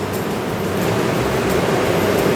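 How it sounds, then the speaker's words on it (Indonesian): River water flows beside a restaurant in Ciwidey on a rainy day: a steady, full rushing wash of moving water, close and fairly loud, continuous throughout with no voices. "Kalau masih hangat-hangat lagi hujan gitu ya, dengan suara air sungai, jadi makin nikmat gitu."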